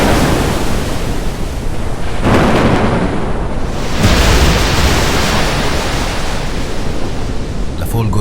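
A violent storm at sea, with howling wind and crashing waves around ancient ships. It makes a loud, unbroken roar that swells near two and four seconds.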